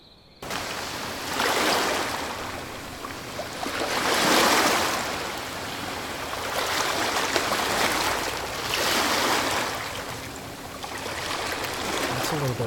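Layered water ambience for a night scene near the shore, a steady broadband wash of flowing, lapping water with gentle swells rising and falling every few seconds, continuous and fairly close, with no voices.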